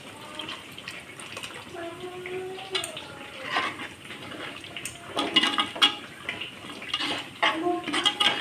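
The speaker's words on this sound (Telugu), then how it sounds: "తగినంత వాటర్ వేసుకున్నాము" Water poured into a pot of tamarind pulusu, a close splashing and trickling pour with a few pot clinks, steady and moderately loud with no talk.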